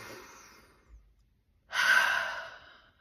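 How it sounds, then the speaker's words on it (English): A slow, deep breath drawn in and released, soft and close, ending in a long airy exhale that fades out in a quiet room. "take a deep breath in"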